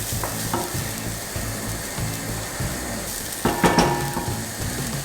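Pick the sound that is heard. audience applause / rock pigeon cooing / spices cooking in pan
spices cooking in pan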